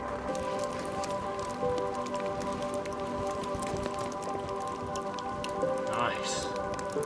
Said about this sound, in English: We've had a lot of rain today.